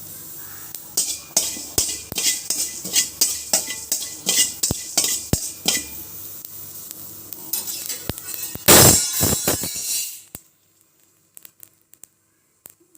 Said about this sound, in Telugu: మెంతులు లైట్గా వేయించుతున్నాను చూడండి జీలకర్ర మెంతులు